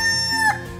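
A rooster crows once, close and loud, in a brief harmonic call that bends upward at its end.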